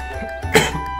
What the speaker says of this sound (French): comme vous voyez, j'arrête pas de tousser